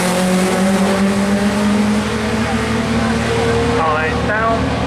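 A Toyota Corona 1600cc race car at the Brighton Speed Trials, its engine droning loud and steady with rising revs near the end, under ongoing talk.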